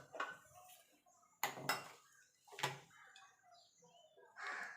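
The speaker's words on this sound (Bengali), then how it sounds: "ধরিয়ে একটা কড়াই বসিয়ে দেবো।" A wok (kadai) set on a gas stove gives a few sharp metallic clanks and scrapes, spaced apart in a quiet kitchen, with faint background sounds between them.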